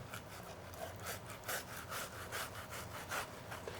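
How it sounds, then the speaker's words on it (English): Knife sliding back and forth between salmon skin and fillet, a close rhythmic rasping of about eight even strokes, alone with no talking. "put it flat, hold it at the end, and move your knife in a jigsaw fashion"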